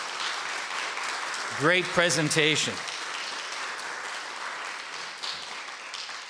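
An audience gives a steady round of applause at the end of a speaker-series talk, with a person briefly speaking over the clapping.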